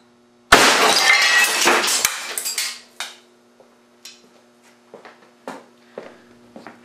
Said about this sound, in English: certainly no problem hitting the toilet with that wax slug. Done quite a bit of initial damage.